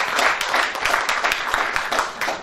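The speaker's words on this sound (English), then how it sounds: "A round of applause," An audience at a conference claps warmly, a dense burst of hand claps that holds steady for a couple of seconds at close range.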